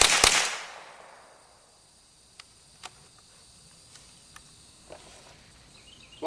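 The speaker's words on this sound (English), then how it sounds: "Install the magazine, hit the operating handle, safety's on, we're ready to fire." A Ruger 10/22 rifle with a custom trigger job fires once during a test: a single loud, sharp crack with a fading echo tail, followed by a few faint, scattered clicks.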